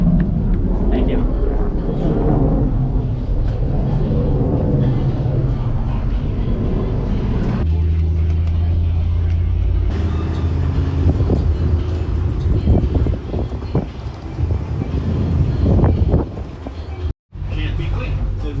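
Riding on a bus, a loud continuous engine rumble and road noise close to the microphone, with wind buffeting and a brief cut-out near the end while someone talks over it.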